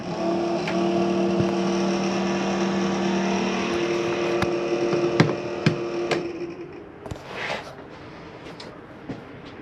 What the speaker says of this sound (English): Power exhaust vent in here.